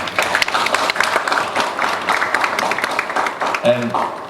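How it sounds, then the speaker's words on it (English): Audience applause at a football federation speech on hosting the AFCON tournament, a dense, even patter of many hands lasting throughout, with a voice breaking in near the end. "Can we clap hands for them, please?"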